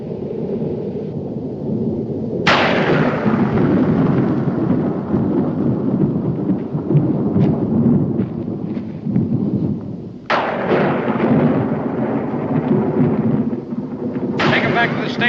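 Heavy rolling thunder from an approaching storm rumbles continuously, with sharp loud cracks breaking in three times over a dense, roaring low background.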